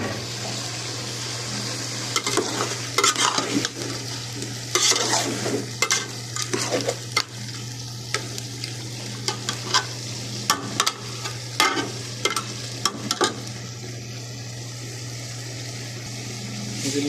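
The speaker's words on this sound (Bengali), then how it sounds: "ডাল দিয়ে দিলাম, একটু মিক্স করে নিই। আর এখানে একটু শুকনো মরিচ দিলাম আমি" Dal being stirred in a pan with dried chillies frying alongside: repeated close scraping strokes against the pan over a steady low sizzle, no talk.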